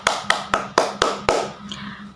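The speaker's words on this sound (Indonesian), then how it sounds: "Oke, tepuk tangan dulu untuk kita semua ya." A classroom group claps in unison: six sharp, evenly spaced claps about four per second, crisp and close, then fading out.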